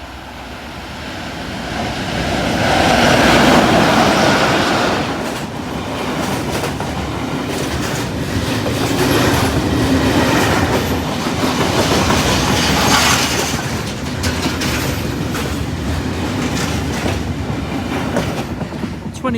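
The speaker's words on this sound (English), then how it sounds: "And train approaching." A train approaches and rumbles past Saxilby level crossing, a loud, continuous roar of wheels and rail clatter swelling close by and holding steady throughout.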